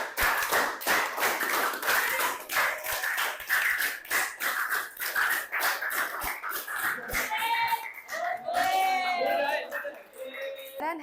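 A class claps in quick rhythmic rounds during a clapping game, many sharp claps in sequence, mixed with children's chatter and voices toward the end.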